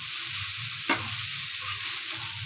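Poha pulao stirred in a pan, a steady sizzling hiss with one brief scrape of the spoon, close and fairly loud, no talk.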